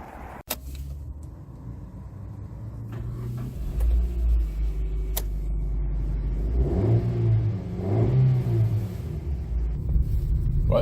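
A 2012 Mazda2 1.3 petrol hatchback starts off with a click and thump, then its engine rumbles and revs up through the gears as it pulls away, heard from inside the cabin with a low steady road drone.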